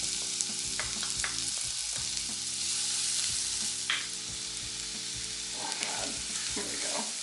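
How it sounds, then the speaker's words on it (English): Minced garlic, pepper and red pepper flakes sizzling steadily in a hot pan, a constant bright crackle with occasional stirring knocks, close and with no talking. "throw in your minced garlic, pepper, and red pepper flakes and cook until fragrant"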